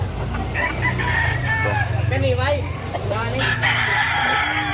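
A rooster crows loudly and close by in Carbon, Cebu, its drawn-out call rising over a busy market din with voices talking and clucking fowl nearby.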